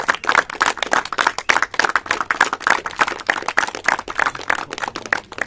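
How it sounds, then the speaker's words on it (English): Audience applause at a medal presentation, a steady dense patter of many hands clapping, fairly loud and continuous with no talking over it. "Huge round of applause."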